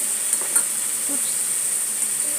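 Pork loin pieces searing in a hot pan give off a steady, soft high hiss with a few faint crackles, a quiet continuous sizzle with no talking over it.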